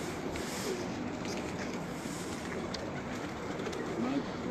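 Pigeons coo softly in a flying pigeon loft at night, with a few low calls over a constant broadband background hum. Faint voices may sit under the noise.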